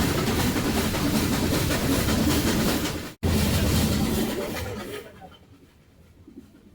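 The Nilgiri toy train, a heritage steam-engine line running from Mettupalayam to Ooty, rumbles loud and close with clattering carriages, cuts out for an instant, then fades away as it passes.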